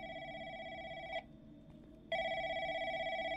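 Inside a call center horror video game, a telephone rings with a bright electronic trill, one long burst, a brief pause, then a second ring, clear and steady with no talking.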